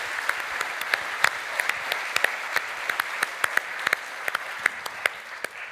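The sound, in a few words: audience applause after a lecture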